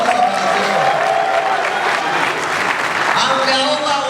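An audience at a Lions Club International district anniversary event claps steadily throughout, a dense, even wash of applause with crowd noise and some talk underneath.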